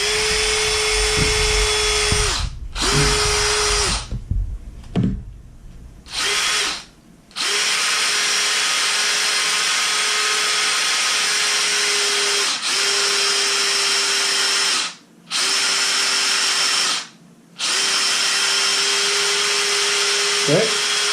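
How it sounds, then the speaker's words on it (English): A drill bit bores through a lead fishing sinker, the motor whining loudly in long bursts with several short pauses between runs, no talking. "that drill bit's going to want to pass underneath this original wire"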